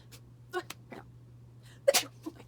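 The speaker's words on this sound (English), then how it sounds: "I'm gonna sneeze, hold on." A single sharp sneeze bursts out close up, preceded by a few quiet breaths and small sounds over a faint steady hum.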